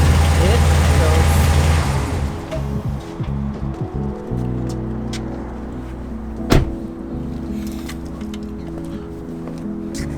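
Dodge Ram 1500 truck with an idle fault: a loud, low engine rumble runs for about two seconds and then cuts out, followed by a quieter stretch with a single sharp knock and someone talking.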